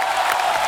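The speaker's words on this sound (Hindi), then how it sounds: "जोरदार ताली होनी चाहिए।" A studio audience at a comedy show claps in a brief, steady wash of applause, dense and even throughout, with no voice standing out.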